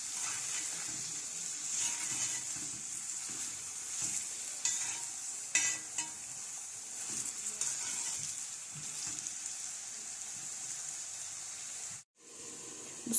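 Onions sautéing and being stirred in a pan for a chicken and peas dish with vegetables, a steady bright sizzle with intermittent stirring scrapes throughout, cutting out briefly near the end before resuming.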